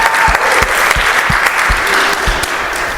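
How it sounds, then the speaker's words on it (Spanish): An audience gives strong applause for invited speakers, a dense sustained roar of many hands clapping with rhythmic low thumps running through it. "les demos un fuerte aplauso"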